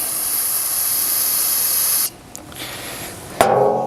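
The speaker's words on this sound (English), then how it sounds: "some brake cleaner, carb clean, brake clean, something." An aerosol can of brake cleaner sprays in a steady, loud hiss for about two seconds, then cuts off and gives a brief second burst near the end.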